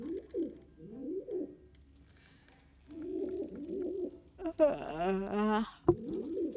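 A pigeon in the game Anna's Quest coos in soft repeated phrases, close and fairly quiet, with a pause in the middle and a louder warbling call near the end.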